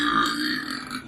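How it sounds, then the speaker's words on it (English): A man's burp, one continuous voiced belch lasting about a second, loud and close, with no other sound around it. "That was a burp."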